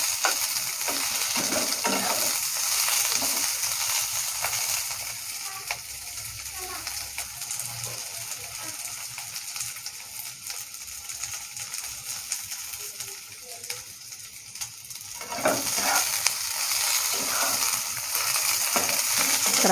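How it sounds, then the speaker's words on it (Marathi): Okra (bhindi) fries in a pan for dhaba-style bhindi masala, giving a steady close sizzle broken by the scrape and clatter of stirring, louder near the start and end. "जोपर्यंत भेंडीतला चिकटपणा दूर होत नाही तोपर्यंत आपल्याला भाजून घ्यायचं आहे"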